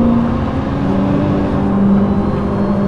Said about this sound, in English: I have that crazy BMW M5 behind me.